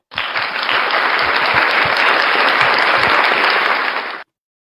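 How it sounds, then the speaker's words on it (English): A pageant audience gives loud, sustained applause for the first runner-up, a thick, even roar of clapping that holds for about four seconds and then cuts off. "Let's give a big round of applause to our Miss Face of ALIAC 2020 first runner-up"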